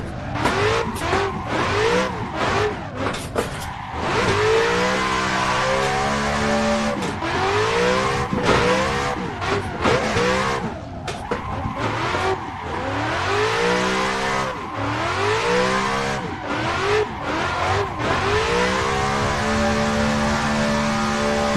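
In a racing sim game, an LSV8 car drifts with repeated engine revs rising and falling, tires squealing through long slides, and quick gear-change bursts cycling loudly and continuously.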